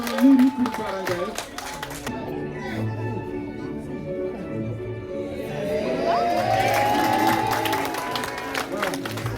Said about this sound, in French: C'est l'applaudissement unique pour Barangay.